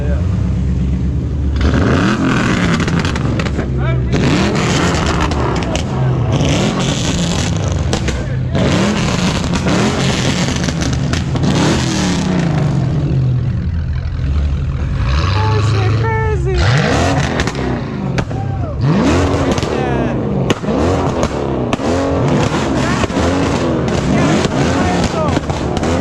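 BMWs and Mopar cars rev hard at an exotic car meet with donuts and burnouts, engines rising and falling with repeated exhaust pops and crackles, loud and close under an excited crowd's voices.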